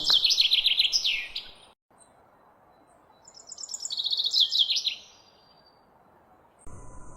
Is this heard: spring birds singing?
yes